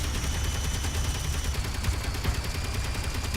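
Spaceship weapons firing in Space Engineers, a dense, continuous barrage of rapid shots with steady booming low rumble, loud and unbroken throughout.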